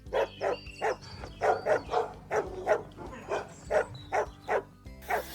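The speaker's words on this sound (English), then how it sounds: "nearly got savaged by a dog here" A dog barks repeatedly in a steady series of loud, close yaps along a village lane, about a dozen barks in quick rhythm with no talking.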